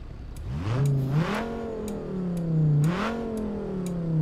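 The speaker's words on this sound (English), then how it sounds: "Rev it right here at the lights." A car engine in the Texas Driver Simulator video game revs hard twice, pitch climbing and falling in smooth sweeps over a steady idle, close and loud with no talking.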